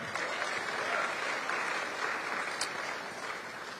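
An audience at a Democratic candidate forum in Virginia applauds, a dense, even burst of clapping from many hands that holds steady, then tapers slightly near the end.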